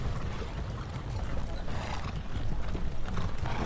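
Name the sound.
horses galloping in Thirty Years War video game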